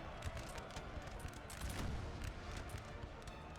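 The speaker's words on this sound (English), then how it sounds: "Oh, just some nasty artillery hits against this French unit." Artillery shells strike a French infantry unit in Napoleon: Total War at the Battle of Auerstedt, a dense continuous din of booms and musket crackle rolling without pause.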